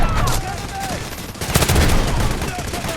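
Rapid gunfire in the mobile shooter Delta Force Mobile comes as loud, dense bursts of automatic shots that fill the clip, with a voice speaking faintly underneath.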